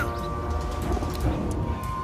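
Low, soft pigeon coos repeat steadily beneath a constant background hum, with faint light clicks scattered throughout.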